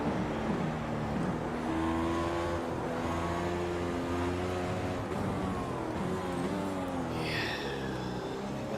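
A race car in the iRacing sim: the engine climbs and drops through repeated upshifts and downshifts under braking into a corner, loud and continuous, with a brief tire squeal near the end.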